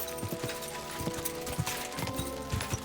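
Horse hooves clip-clop steadily at a trot in Kingdom Come Deliverance II, close and distinct over a busy game backdrop with faint ambient tones and no talking.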